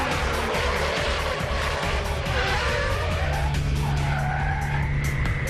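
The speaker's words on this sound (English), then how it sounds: "And then brake hard down to third gear, and it's sliding around." An Ariel Atom race car brakes hard and slides, tires squealing and skidding continuously over a loud engine drone, close and sustained without speech.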